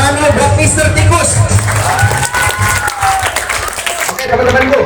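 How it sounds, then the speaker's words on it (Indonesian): An audience at a motivational talk applauds amid crowd noise, with clapping mixed under cheering, whoops and overlapping voices in a lively, loud hall. "tepuk tangan dulu buat Mr."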